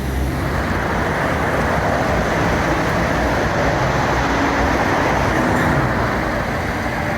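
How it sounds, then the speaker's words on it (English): Road noise in a traffic jam, heard from inside a VW ID.3 GTX on the way to Switzerland: a loud, constant broadband rumble with no distinct events, steady for the whole stretch. "We're in traffic jam right now."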